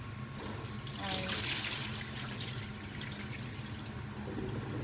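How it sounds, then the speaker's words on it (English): Rice is washed with hot water in a pot, giving a continuous close splashing and running-water sound with faint voices murmuring underneath. "So I wash my rice with hot water"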